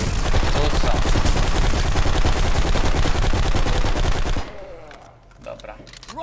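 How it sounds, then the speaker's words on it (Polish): Rapid, dense automatic gunfire in the video game Black Site: Area 51, loud and continuous bursts for about four seconds before cutting off abruptly to quieter scattered sounds. "No i skąd te strzały?"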